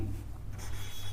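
Chalk or a marker scrapes across a classroom board in one brief, soft, close rub under a quiet low hum, with no talk.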